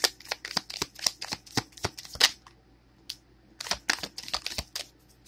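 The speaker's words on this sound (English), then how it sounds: "Three shuffles, please." A deck of tarot cards is shuffled in quick bursts of crisp riffling and flicking, close and fairly loud, with a short pause midway and no talk.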